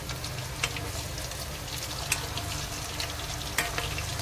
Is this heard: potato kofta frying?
yes